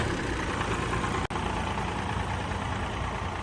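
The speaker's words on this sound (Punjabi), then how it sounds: "ਦੇਖੋ ਟਰੈਕਟਰ ਦੀ ਆਵਾਜ਼" A Sonalika 745 tractor engine idles steadily and loudly, a constant low chugging rumble, with one brief dropout partway through.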